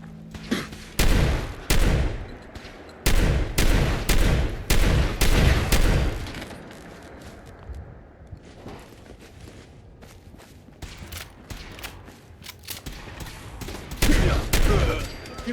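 Shotgun fire in the video game Fallout 4: loud, repeated blasts in bursts, several heavy shots early, a quieter stretch, then more shots near the end.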